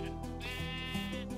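A Minecraft sheep bleats in one sustained, wavering cry lasting over a second, close and clear over steady game background sound.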